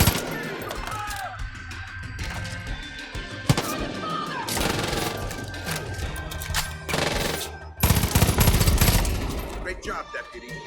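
Far Cry 5 on Android: bursts of gunfire, including rapid machine-gun strings and single shots, pop in clusters amid game noise, loud and near, with gaps between volleys.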